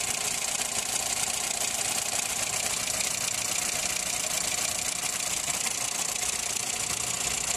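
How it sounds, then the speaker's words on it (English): A car engine idles in neutral with an HHO hydrogen generator fitted, giving a steady, continuous mid-range hum with a faint knocking texture, level and unchanging throughout, with no voices over it. "The engine has been running idle"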